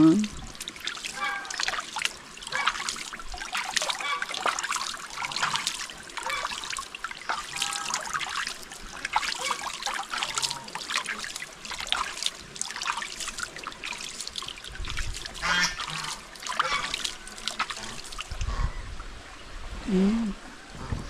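Water trickles and splashes gently over a shallow stream in a rural creek, a soft continuous babble that carries on for about twenty seconds, with voices occasionally heard alongside.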